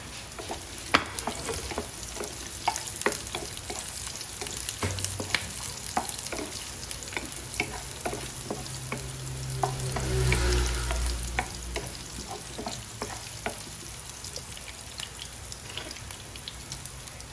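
Chorizo fries in a pan with garlic and onion, a continuous soft crackle and sizzle broken by frequent spoon scrapes and taps, close and fairly quiet throughout.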